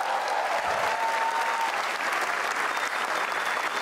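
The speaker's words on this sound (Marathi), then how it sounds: "अरे कडक, एका टाळ्या होत्या." Audience applause at a standup comedy show, a steady wash of clapping from a crowd that holds evenly for several seconds without fading.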